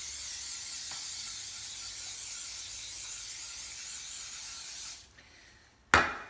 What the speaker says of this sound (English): Spray that old muffin pan with the trusty coconut spray.